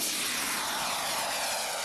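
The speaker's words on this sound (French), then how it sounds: "La motorisation de ce modèle est assurée par un réacteur hollandais AMT Pegasus de 12 kg de poussée" Radio-controlled model jet powered by a Dutch AMT Pegasus micro-turbine with 12 kg of thrust, giving a steady, loud, close rushing roar with a hissing whine that holds unbroken throughout.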